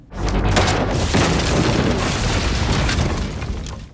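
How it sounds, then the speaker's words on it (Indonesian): A hut in a film blows up in a loud, sustained explosion: a sharp onset, then a broad roaring rumble with debris that fills the whole stretch before slowly easing off. "Mike CS tiba tepat saat pondok sudah meledak."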